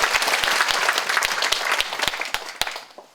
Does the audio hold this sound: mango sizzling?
no